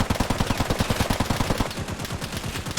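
Rapid automatic gunfire from the video game Caliber, a fast steady stream of loud close shots that rattles on without pause for about three seconds, with no talk over it.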